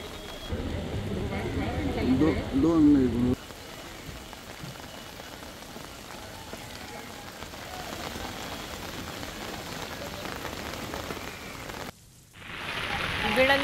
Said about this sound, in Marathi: भिवंडीमध्ये सकाळपासून मुसळधार पाऊस सुरू आहे